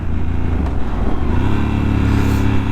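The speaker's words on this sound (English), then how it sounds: "engine braking there is good, not too intimidating" A Triumph Scrambler 1200 XE motorcycle engine braking, a loud steady low rumble with heavy wind buffeting as the engine note drops while the bike slows.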